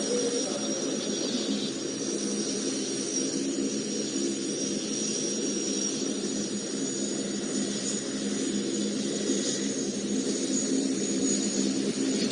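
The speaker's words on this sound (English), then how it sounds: "The Panavia Tornado will strike up with an inverted flight." A Panavia Tornado jet flies at the Cosford airshow, a steady, sustained engine roar with a broad rumbling hiss that swells gently toward the end, heard alone without voices.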